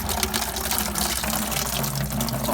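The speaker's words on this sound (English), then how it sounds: "It basically down here has an out to drain all the poop that is siphoned out from the fish tank." Water gushes steadily through a fish tank filter system's drain outlet, a continuous close splashing rush with no talk over it.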